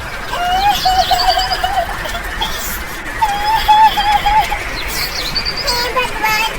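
A cartoon tuntuni bird cries loudly in a rainy forest story, with repeated warbling whistled calls in three bursts over a steady rain-like hiss.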